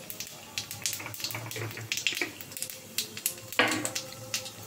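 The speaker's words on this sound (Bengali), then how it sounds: "তেলটা গরম হয়ে গেছে, আমি কালো জিরে ফোড়ন দিয়ে দিলাম" Nigella seeds tempering in hot oil, light intermittent sizzling and crackles with a few metallic pan and utensil clinks, close and moderately quiet.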